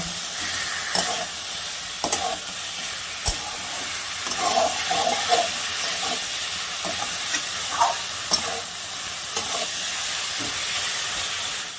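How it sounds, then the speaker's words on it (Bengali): A katla fish head frying in masala in a pot, stirred steadily with a utensil, giving a continuous close sizzle and hiss broken by scraping and clinking stirring strokes. "এবার এর মধ্যে আমি মাছের মাথাটা দিয়ে দিই। দিয়ে এই মশলাটার সাথে ভালো করে মিশিয়ে নেব।"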